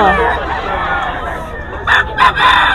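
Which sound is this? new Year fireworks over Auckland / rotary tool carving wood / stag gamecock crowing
stag gamecock crowing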